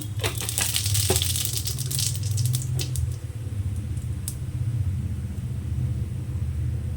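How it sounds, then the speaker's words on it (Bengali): Radhuni seeds dropped into hot oil in a kadai crackle and spit sharply for the first few seconds, then settle into a quieter steady sizzle over a low rumble, close by and without speech. "আমার তেলটা গরম হয়ে গেছে ফোড়নি কটা রাঁধুনি দিলাম"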